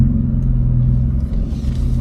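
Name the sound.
stick shift car reversing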